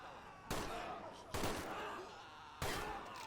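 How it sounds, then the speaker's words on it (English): Three separate single shots from a machine gun fired in semi-automatic mode in a World War II video game battle with Soviet troops storming a tower, each a sharp loud crack with a booming echo. "Conserving ammo there, that machine gunner. Shooting his gun in semi."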